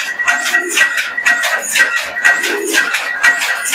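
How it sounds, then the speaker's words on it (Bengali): A Lal Jiria pigeon coos up close, with soft, throaty pulses repeating in a steady rhythm about twice a second, loud and clear with little else around. "লালজিরিয়া পায়রা"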